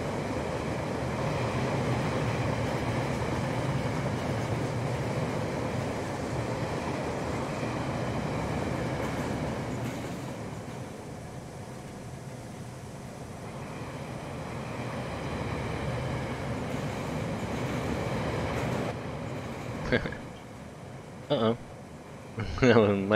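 Model trains roll along a track in the Rolling Line game, a long steady rumbling clatter that eases off midway, then sharp clicks and knocks near the end.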